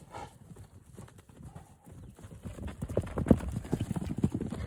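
Racehorses walking on a farm with animals around, hooves clip-clopping in an irregular patter that grows louder and closer in the second half, with faint voices in the background.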